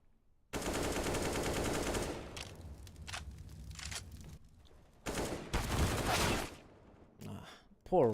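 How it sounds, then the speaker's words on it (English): P9 gunfire in a Counter-Strike match: a sustained burst of rapid shots for about a second and a half, then scattered shorter bursts and single cracks later, with some game ambience between them. "I think he started out actually shooting that P9 while his Happy was turned away, but still can't succeed on the kill"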